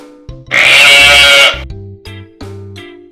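A toy sheep bleats during children's farm-animal play: one loud, sustained bleat, then several short, sharp electronic chirps with quiet gaps between them.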